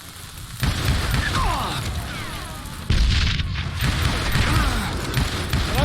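A double-barrel shotgun fires twice in the Call of Juarez Gunslinger video game: two loud, close blasts a couple of seconds apart, each followed by a rumbling tail, with whistling effects in the background.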